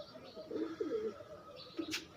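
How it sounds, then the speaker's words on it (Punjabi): A large white pigeon coos softly in a few low, rounded phrases, faint and close, with a brief brighter flutter or chirp near the end. "ਇਹ ਵੱਡਾ ਕਬੂਤਰ ਆ ਵੀਰੇ"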